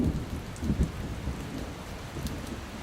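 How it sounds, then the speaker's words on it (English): Rain falling on pavement in a parking lot, a continuous close hiss with low rumbling thunder swells underneath, no talking. "It's raining."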